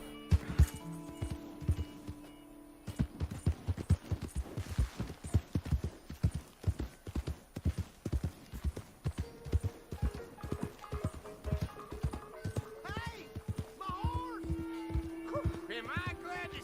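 A horse gallops in the video game Red Dead Redemption 2, its hooves drumming in a rapid, continuous rhythm that stays close and loud for the whole stretch, with some voices and tones briefly mixed in.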